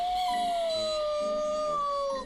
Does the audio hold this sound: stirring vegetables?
no